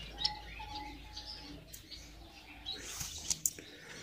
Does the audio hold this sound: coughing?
no